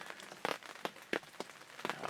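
Rain falls outdoors on a cold, rainy morning near a swamp during a deer hunt, heard as a soft steady patter broken by several louder splashy bursts of drops landing nearby.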